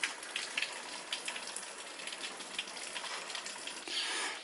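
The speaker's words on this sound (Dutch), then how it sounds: "het kan ook hier regenen" Steady rain patters on surfaces outdoors in Carrapateira, Portugal, with scattered drops and a dense hiss that swells briefly near the end, close and fairly quiet with no voices.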